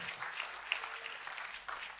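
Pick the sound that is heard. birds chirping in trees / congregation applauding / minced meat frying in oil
congregation applauding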